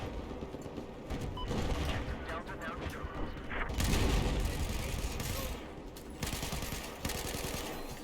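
An automatic weapon in Battlefield 4 fires sustained bursts of rapid gunfire amid explosions and battlefield clatter, with a player's voice talking over the loud, continuous shooting.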